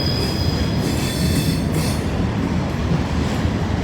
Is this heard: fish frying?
no